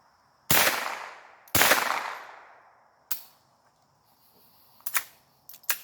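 Rifle shots fired at targets from 30 yards on a shooting range, comparing Primary Arms and SwampFox scopes: two loud, sharp cracks with long echoing decay, then three quicker, fainter reports spaced apart.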